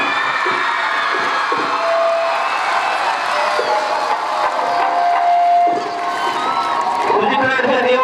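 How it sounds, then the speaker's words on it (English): Crowd at a high school sports day cheering and clapping, with children shouting over a loud, continuous wash of voices and scattered claps; a whistle-like tone cuts through briefly. "Clap for them."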